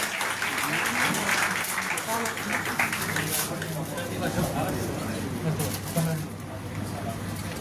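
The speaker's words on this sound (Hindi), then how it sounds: "एक बार जोरदार तालियों से आप सभी स्वागत करें, अभिनंदन करें" An audience at a Haryana press club event applauds loudly to welcome visiting ministers, a thick, continuous roar of clapping that is strongest early and tapers slightly, with a voice speaking over it.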